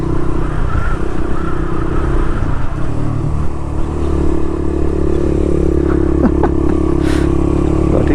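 A Suzuki RV125 VanVan motorcycle ridden along a rough, bumpy track in West Wales, its single-cylinder engine droning loud and close with rattling, clattering chassis noise and a rise in revs near the end.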